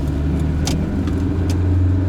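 A 1995 Kia Pride with a manual gearbox accelerates in a short burst, giving a close, steady engine hum with a faint rise and no voices.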